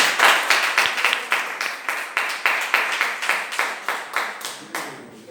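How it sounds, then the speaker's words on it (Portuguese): A church congregation at a Sunday morning service claps together in a steady, even rhythm, about a dozen loud unison claps at regular intervals. "As palmas no Senhor."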